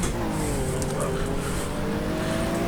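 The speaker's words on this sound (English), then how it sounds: "Being passed by a Corvette C3 Stingray." A Corvette C3 Stingray overtaking on a wet track in the GTR2 racing game, a continuous loud engine roar with a rising whining pitch and rushing spray noise, close throughout.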